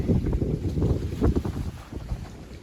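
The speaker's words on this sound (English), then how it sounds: "Again, very windy day." Wind buffets the microphone beside a river at a park in Stuart, Florida, a close, continuous low rumble that rises and falls in quick gusts.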